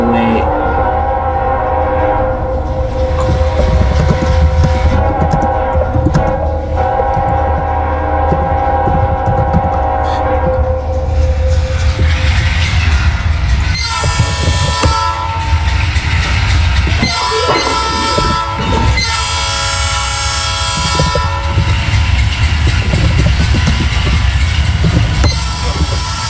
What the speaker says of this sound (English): We got a Tropicana juice train.